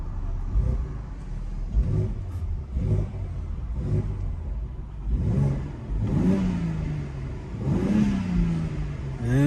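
A BMW X3M Competition's engine revs repeatedly at cold start, with several sharp throttle blips early on, then longer rising and falling revs. Loud and close, with no talking.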